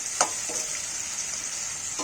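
Red chilli sizzles in hot oil with spices in a pan, a steady close hiss with a few brief stirring scrapes over about two seconds.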